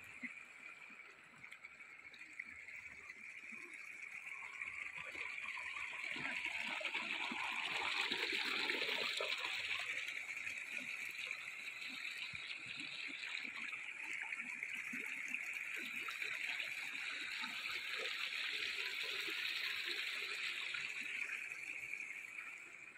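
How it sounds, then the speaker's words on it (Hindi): A glacier meltwater stream in Kashmir's Arang Kel rushes steadily in a broad, constant wash that swells slightly partway through, heard outdoors at moderate distance with no other sounds standing out. "ये ग्लेशियर से पानी आ रहा है जो साथ आ रहा है"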